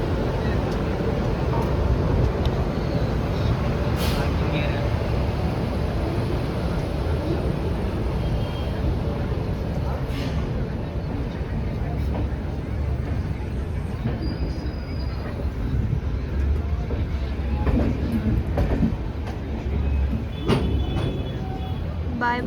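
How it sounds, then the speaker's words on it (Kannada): The Hampi Express pulls slowly out of KSR Bengaluru station, a steady low rumble of wheels and carriages with occasional clanks and a faint squeal, and station noise in the background. "ಈಗ ನಮ್ಮ ಟ್ರೈನ್ ಹಂಪಿ ಎಕ್ಸ್ಪ್ರೆಸ್ KSR ಬೆಂಗಳೂರಿಂದ ಡಿಪಾರ್ಚರ್ ಆಗ್ತಾ ಇದೆ. ಸ್ಲೋಲಿ ಮೂವ್ ಆಗ್ತಾ ಇದೆ ನೋಡಿ."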